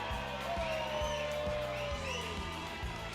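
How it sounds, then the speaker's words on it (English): An arena crowd at a Manotick Mariners versus Barry's Bay Wolves series-final hockey game roars after a Wolves goal, a sustained wash of cheering with rhythmic thumping underneath, loud and continuous throughout. "Listen to that crowd."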